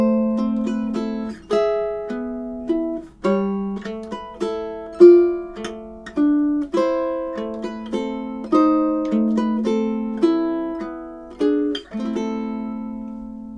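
Solo ukulele plays the slow classical piece "A Little Flower", clear plucked melody notes over gentle chords in a steady, lilting rhythm, close and alone with no voices.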